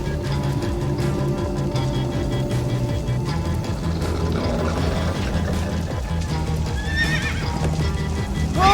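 Horse galloping and neighing in the video game Minecraft Story Mode, steady clip-clop hoofbeats running throughout with whinnies, over a busy game soundtrack and effects.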